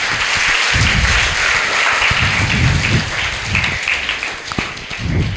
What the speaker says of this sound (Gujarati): ફરી એકવાર જોરદાર તાળીઓથી